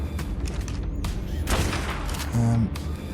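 Rifle shots fired at bats in the survival game ARK, a few sharp reports scattered through a dense, noisy game soundscape with a low droning tone near the end.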